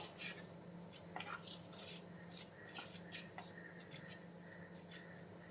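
A spoon stirs a thick jaggery mixture for athirasam in a pot, giving irregular close scrapes and light metallic clinks alone without speech.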